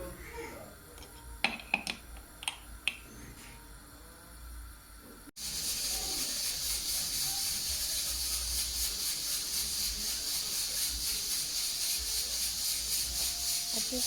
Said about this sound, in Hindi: प्रेशर कुकर की शिश शिश शिश के साथ कितनी यादें जुड़ी होती हैं ना